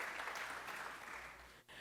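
A church gathering at First Missionary Baptist Church claps for Mr. Emory Chesterfield, soft and somewhat distant applause that continues evenly throughout with a brief dip near the end.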